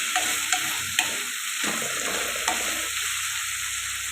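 Prawns and chopped tomatoes sizzle in a pan for a masala curry, with close spoon-stirring scrapes and soft knocks over a steady frying hiss.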